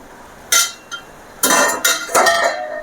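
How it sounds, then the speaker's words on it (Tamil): The metal lid of an idli steamer pot is lifted, giving several sharp, close metallic clinks and scrapes in quick succession, with short pauses between them. "இப்போ நம்ம இந்த இட்லி பானையை திறந்து பார்க்கலாம்"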